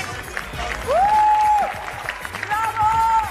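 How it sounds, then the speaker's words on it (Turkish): An audience applauds at a New Year's singing show while a loud whooping or whistling voice rises over the clapping and cheering of the crowd. "Büyük alkış, büyük alkış."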